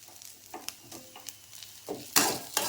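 Adamant creeper (pirandai) frying in a pan for chutney, with close sizzling and a series of scraping stirs that grow louder toward the end.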